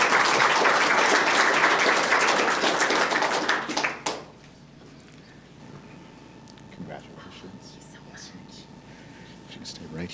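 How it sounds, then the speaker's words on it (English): Applause from an audience at a school district board meeting, a dense burst of clapping for about four seconds that fades out, followed by quiet room noise and faint murmuring. "Let's give her a round of applause"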